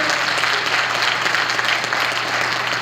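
Audience applause for a troupe of four Irish dancers at a family stage show, a steady, dense wash of clapping that holds for the whole stretch with no voices over it.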